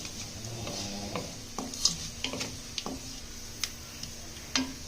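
Mustard seeds, black peppercorns and fennel fry briefly in a pan, a soft sizzle dotted with sharp scattered pops and light stirring taps, fairly quiet and close.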